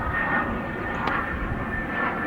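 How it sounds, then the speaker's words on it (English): A jet aircraft drones steadily overhead above a golf course, a broad, even roar that holds at a constant level, with no talking. "There's a jet above me."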